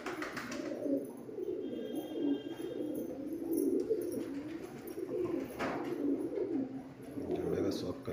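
Madrasi high-flying pigeons coo in repeated low, throaty rolls, close and continuous, with a few faint chirps mixed in and no clear talk over them.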